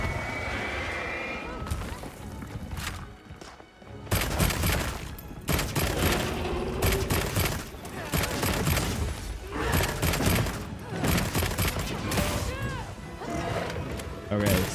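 A charged gun blasting repeatedly in Monster Hunter Wilds amid battle chaos, with loud crashing bursts, horse-like whinnies and hoof clatter, and a voice talking now and then.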